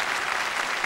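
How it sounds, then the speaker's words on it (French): A theatre audience applauds at a comedy show, a dense steady roar of many hands clapping at once. It is close and even and fills the whole moment without a pause. "Excusez-moi de vous déranger au milieu des applaudissements"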